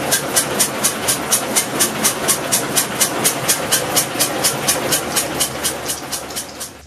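Steady, rhythmic clickety-clack of small train wheels running over rail joints, regular beats repeating close and loud over a continuous rolling rumble.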